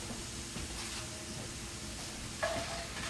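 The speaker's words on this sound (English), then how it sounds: "I'm going to saute those up." Frozen mushrooms and onions sautéing in a pan, a soft, steady sizzle and hiss at low level with a faint utensil scrape late on.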